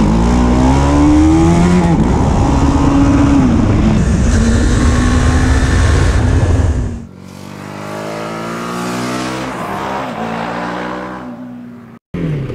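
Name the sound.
BMW G 310 R motorcycle engine while riding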